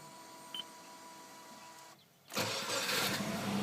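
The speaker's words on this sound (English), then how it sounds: "let me just turn my car on." 2002 Subaru Legacy RSK engine cranking and firing up after a brief low hum and pause, then settling into a loud, steady idle close by.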